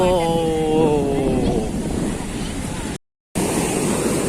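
Sea waves wash in at Kanvatheertha beach as a steady, loud surf roar mixed with wind buffeting the microphone, with a brief tonal sound early on and a short dropout near the end.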